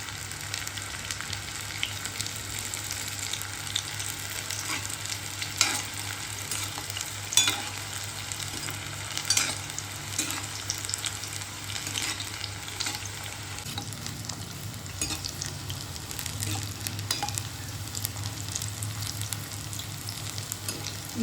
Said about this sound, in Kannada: ಈಗ ಸರಿಯಾಗಿ ಎಣ್ಣೆಯಲ್ಲಿ ಫ್ರೈ ಆಗ್ತಾ ಇದೆ ಈರುಳ್ಳಿ ಬಜಿ